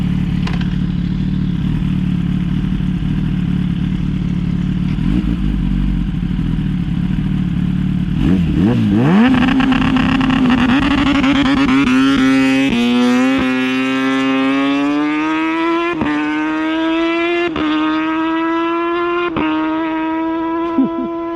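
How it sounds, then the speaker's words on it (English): Kawasaki ZX10R sportbike idling loudly, then launched hard: the engine snarls up through rising revs, with sharp upshifts punctuating a climbing, near, aggressive howl. "Now he's going to launch the bike."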